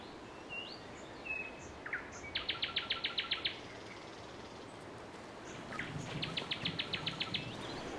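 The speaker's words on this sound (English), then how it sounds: "Listen to the nightingale." A nightingale sings in a quiet Swedish archipelago setting, faint and somewhat distant, with whistled notes followed by two rapid repeated trilling bursts over a soft background hiss.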